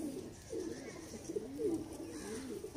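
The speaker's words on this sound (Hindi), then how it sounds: "ये सलारे टेडी कबूतर है।" A Salara Teddy pigeon coos softly and close by, giving a few low, rolling, throaty calls in quick succession against a quiet background.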